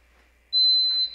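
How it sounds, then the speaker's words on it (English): A piercing, steady electronic buzzer from an industrial safety light curtain alarm starts abruptly about halfway through and holds a single tone for roughly half a second before cutting off, loud and alone against a quiet background. "then the alarm is going to come on, and it'll be indicated by the blue light flashing and our buzzer flashing"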